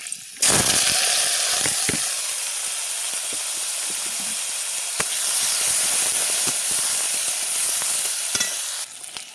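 Green chillies and onion hit hot oil in a kadai with a sudden loud sizzle that holds as a steady hiss, broken by occasional crackles and stirring clicks before cutting off.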